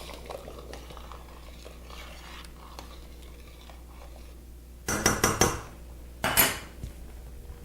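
Salt being stirred into a pot of beef stew, a quiet simmering bed broken by two short bursts of a spoon clattering and scraping against the pot near the end, no talking.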